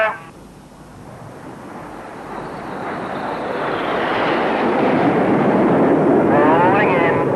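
A Vulcan jet bomber flies past at an air display, its roar building steadily from quiet to loud as it approaches, a rising broadband rush with no talking.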